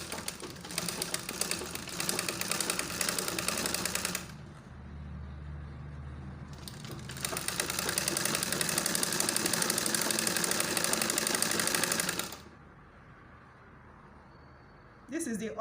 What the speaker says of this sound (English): So I will go ahead and sew it now.